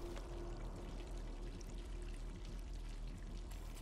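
Water poured steadily into a drinking glass, a continuous close trickle lasting several seconds with no talking.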